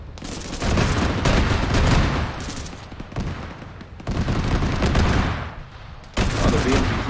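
Sustained loud automatic gunfire in a military combat video game, long roaring bursts broken by brief pauses, dense and close throughout.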